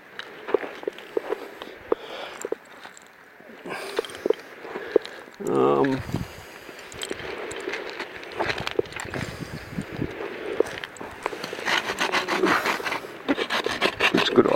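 A piece of hard fungus is rubbed against rocks outdoors in rural Western Australia, giving repeated gritty scraping and rasping strokes close by, mixed with footsteps and ongoing talk.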